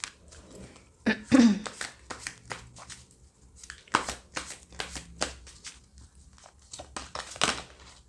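Someone shuffles a tarot deck by hand in short, close bursts of riffling and slapping cards, with crisp crinkly accents and brief pauses between handfuls.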